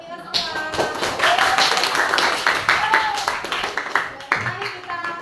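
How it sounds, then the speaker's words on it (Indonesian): A class applauds together in a school lesson, a steady patter of many hands clapping for several seconds while a teacher's voice talks over it. "aplaus untuk kita semua"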